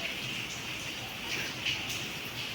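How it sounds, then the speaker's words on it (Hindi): Heavy rain falls steadily outside, a dense, even hiss of drops with a few brief surges, continuous and without voices. "बारिश हो रही है बाहर बहुत"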